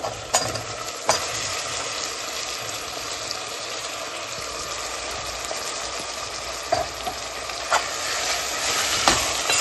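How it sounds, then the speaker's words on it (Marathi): Marinated vegetables tipped into a pot for veg dum biryani, frying with a steady hiss and sizzle, with a few sharp clanks of stirring scattered throughout. "व्हेजिटेबल आपण मॅरिनेशन करून ठेवले ते टाकून घ्यायचे आता"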